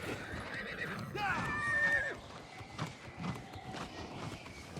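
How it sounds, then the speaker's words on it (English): A horse neighs once and its hooves clip-clop steadily along a road in the video game New World Aeternum, heard with ambient game sound at moderate level. "Horse runs a whole lot better on roads."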